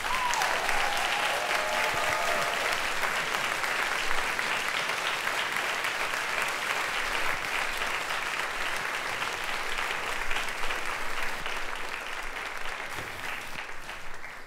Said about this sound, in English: give all the volunteers who helped put this on a round of applause